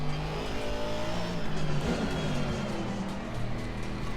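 GT race car in Assetto Corsa Competizione held at full throttle, a loud sustained engine roar with shifting pitch and a faint hint of tyre noise, no talking.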